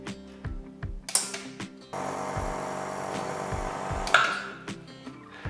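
A Rancilio Silvia Pro X espresso machine pulls a shot of 18 grams of coffee: a few mechanical clicks give way to a steady, loud pump hum lasting a couple of seconds, ending with a bright metallic ping as it tails off.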